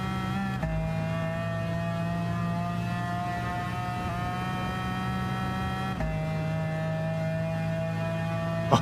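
A McLaren F1 GTR race car engine in Gran Turismo 7 holds a steady, sustained drone with a harmonic whine, shifting pitch slightly around gear changes, loud and continuous with no talk.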